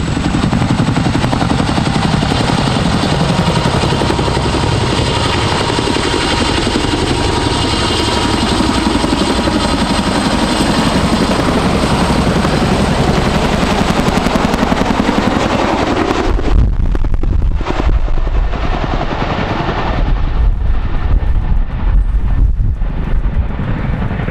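CH-47 Chinook firefighting helicopter hovering in California, a loud, close, continuous rotor and engine roar with heavy wind buffeting that thins abruptly partway through, then rough gusty rumble.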